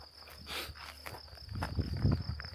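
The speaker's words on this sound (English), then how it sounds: "Only you can hear is the crickets and the birds" Crickets chirp in the Central Portuguese countryside beside a cork tree, a faint high, steady trill running throughout, with soft rustling and a few footstep-like thumps rising near the end.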